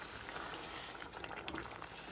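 Boiled water is poured into a pan of aloo masala potato curry, giving a close, steady bubbling and sizzling hiss that crackles briefly toward the end.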